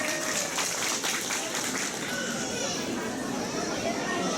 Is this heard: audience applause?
yes